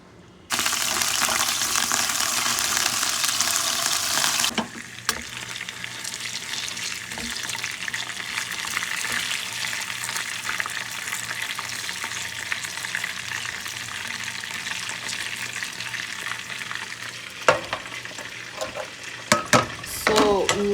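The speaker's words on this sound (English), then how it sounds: "we will start with the onion whilst we are stir frying it. Our meatballs is also browning here" Onion is stir-fried while meatballs brown in a pan, giving a steady soft sizzle at moderate loudness with occasional clinks and stirring scrapes, preceded by a brief louder rush of running water.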